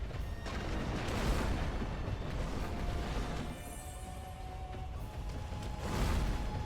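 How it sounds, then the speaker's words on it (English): Firecrackers going off in the video game Sekiro, a dense, continuous crackle of bursts and booms filling the whole stretch, loud and close with a brief dip midway. "The firecrackers are very, very effective against this fucking laser sights."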